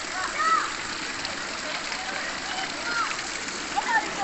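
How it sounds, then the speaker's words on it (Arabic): Water flows steadily from rocks in a waterfall in the Atrush forest near Dohuk, Iraq, as a constant rushing hiss with a few brief high chirps on top. "المياه اللي تطلع من الصخور شلالات"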